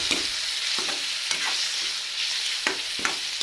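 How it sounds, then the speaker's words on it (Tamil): Chopped tomatoes and onions sizzle steadily in a hot pan for chilli idli, with repeated sharp scraping clicks of a spoon stirring them at an irregular rhythm, close and clear with no voices. "ஸோ தக்காளி ஆட் பண்ணிக்கிறோம். நல்லா ஆனியன் கூட மிக்ஸ் பண்ணி விட்டுக்கோங்க."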